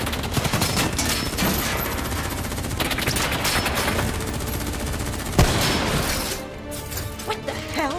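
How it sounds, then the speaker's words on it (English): Loud, continuous automatic gunfire and scattered shots fill a Black Ops III firefight, with a sharp crack near the middle before the shooting thins to a quieter tail. "What the hell? Who's shooting?"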